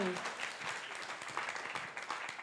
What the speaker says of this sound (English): Give Abby a round of applause there.